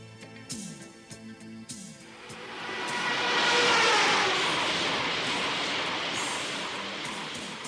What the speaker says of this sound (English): The Shinkansen Super Express, running at 220 kilometers per hour.